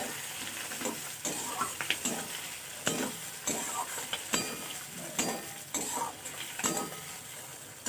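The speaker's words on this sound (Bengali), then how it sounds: "নুন হলুদ দিয়ে ভালো করে নাড়াচাড়া করে নিলেই তৈরি হয়ে যাবে মাছের তেলের রেসিপি" Fish oil cooks with brinjal, salt and turmeric in a pan, sizzling steadily under repeated stirring strokes and light utensil clinks against the metal.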